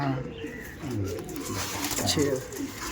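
Andhra pigeons cooing close by: soft, low, repeated throaty coos overlapping one another over a steady background of rustle and ambient noise.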